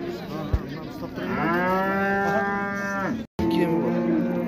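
A cow that has calved once lows at a livestock market: a single long, close moo lasting nearly two seconds follows a brief knock, over low background murmur and a voice.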